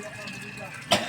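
A single short cough bursts out near the end over a low, steady background hum.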